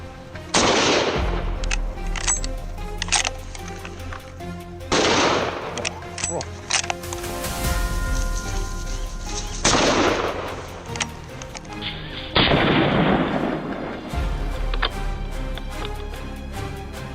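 Gunfire aimed at a herd of wild boars comes as several loud sharp reports in separate bursts, some in rapid runs and some single shots, with a narrating voice and ringing tones between them.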